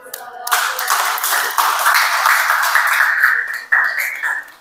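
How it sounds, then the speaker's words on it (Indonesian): A crowd applauds steadily for several seconds, dense clapping that swells briefly near the end before fading out. "Boleh tepuk tangan dulu."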